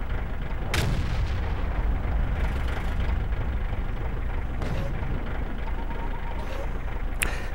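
Tank cannon fire in a tank combat video game, the T26E4 Super Pershing, with sharp heavy booms standing out over a constant rumbling engine drone, one near the start and another at the end.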